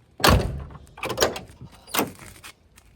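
Driver door of a 1979 Chevrolet Camaro with an adjusted striker, opened and shut, a latch click and thump followed by two more solid closing thunks, close and clear.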